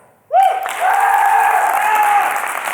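A crowd at a tech conference talk bursts into loud clapping and cheering right after a short vocal whoop, the applause swelling quickly and staying full and close, with shouts and voices mixed in throughout.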